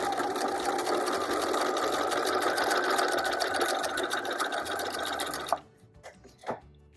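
A sewing machine stitching a book wallet craft runs steadily at close range in a dense rapid whir for about five seconds, then stops, followed by a few soft clicks and handling sounds.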